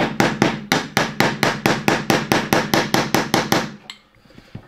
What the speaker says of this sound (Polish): Przyznaję, że strasznie nie lubię młotkiem uderzać tu, zwłaszcza w te obudowy silnika